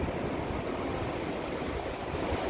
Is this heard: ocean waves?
yes